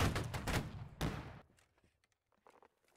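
A line regiment fires a musket volley in the Napoleonic-era game Holdfast: Nations At War, a ragged burst of near gunshots cracking over about a second, then scattered distant pops and thuds fading into quiet.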